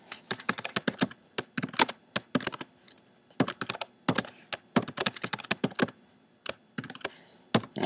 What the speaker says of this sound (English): you can see all my terrible typing